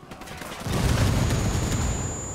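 Gunfire erupts in the shooter game Ghost Recon Wildlands, a dense, rumbling burst of rapid shots that swells after a brief quieter moment and keeps rattling steadily to the end.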